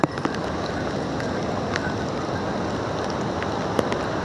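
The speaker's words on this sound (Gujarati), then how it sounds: "વરસાદ હજી વરસાદ ચાલુ" Steady rain falling on the Kedarnath pilgrimage trail, a dense continuous hiss with a few sharper drip and patter ticks, close and even throughout with no voices.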